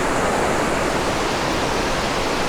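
Owharoa Falls in New Zealand pours and splashes in a loud, steady, broadband rush of water that fills the whole stretch without a break, close by and with no voices.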